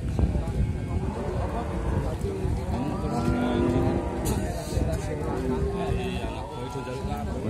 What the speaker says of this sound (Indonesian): bakalan sapi simental.